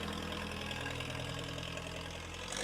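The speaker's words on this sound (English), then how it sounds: "Tractors as far as you can see." Many tractor engines idle and rumble together across an outdoor farm equipment auction, a steady, dense mechanical drone with no speech.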